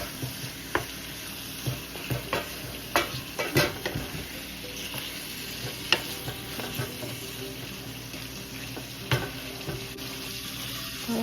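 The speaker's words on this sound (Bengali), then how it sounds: "তো মাংস দিয়ে এখন মশলার সাথে নেড়ে চেড়ে নিচ্ছি" Meat, for a chicken roast, stirred with spices in a hot pan: steady sizzling frying under repeated scraping and clinking spoon strokes, close and fairly quiet, with no talking.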